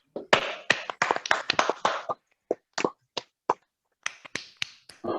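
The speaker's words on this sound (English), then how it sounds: "I request all the members to please unmute and applause for this wonderful speech." Scattered, uneven handclaps come from members of an online Toastmasters meeting, several unmuted microphones giving sharp, dry claps in bursts that thin out into isolated claps before a final flurry.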